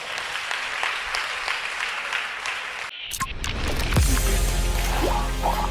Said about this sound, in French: Acclame le roi Jésus-Christ.